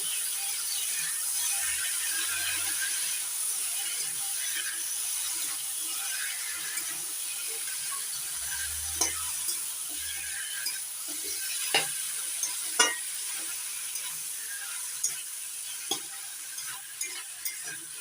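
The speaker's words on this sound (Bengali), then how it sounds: "এবার নাড়াচাড়া করে মিশিয়ে নিচ্ছি" Colocasia leaves being stirred with hilsa fish head in a pan on a gas stove, with a steady soft sizzle under scattered sharp utensil scrapes and clicks that grow more frequent toward the end.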